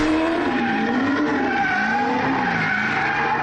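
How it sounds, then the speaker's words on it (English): Car chase movie sound effect with screeching tire skids and a revving engine, played through a budget Sony BDV-E370 surround sound system; loud, continuous squealing with no talk over it. "Although the Sony's bass was somewhat forced, it was very easy to place the sounds of the car."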